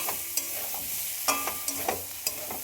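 Potatoes and spices stir-fried in a pan for aloo dum with green peas, a constant close sizzle broken by several sharp spatula clinks and scrapes against the pan.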